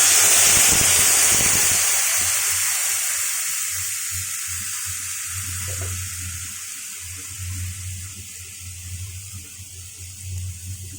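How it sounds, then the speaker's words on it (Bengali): Strained tamarind water goes into a pan of fried okra and potato, a loud hissing sizzle at first that settles into a quieter bubbling simmer, heard close with a low hum underneath. "ভেন্ডি আলু আমার ভাজা হয়ে গেছে, আমি তেঁতুল গোলা জলটা দিয়ে দিচ্ছি ছেঁকে।"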